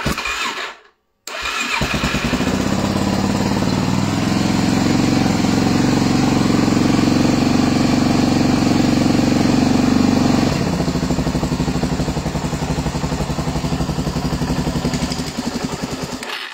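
A motorcycle engine starts and runs steadily at a loud, close idle with a rough, rattling exhaust note, continuing for most of the stretch before settling slightly toward the end.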